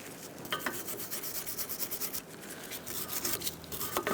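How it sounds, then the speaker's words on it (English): Rust is scrubbed off a 2002-2006 Honda CR-V lower control arm, a close, rough rasping with rhythmic back-and-forth strokes, loud and continuous without speech. "You're going to want to clean up your control arm. Get the excess rust off if you have rust."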